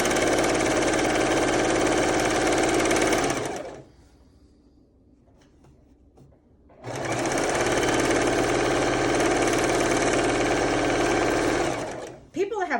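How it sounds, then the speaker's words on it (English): Sewing machine running steadily while straight stitching across the front of a fabric scrub cap, a loud continuous mechanical whir in two long bursts separated by a few seconds of near silence. "So straight stitching all this all the way across the front."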